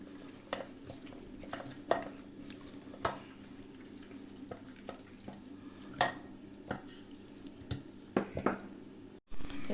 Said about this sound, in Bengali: এখানে 2 চামচ লবণ আর একটু ফুড কালার, অরেঞ্জ কালারটা আমি দিয়ে এটা আমি মেখে নিব